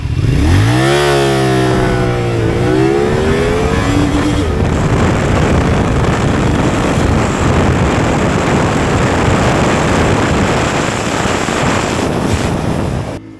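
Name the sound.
CFmoto 450 SR motorcycle accelerating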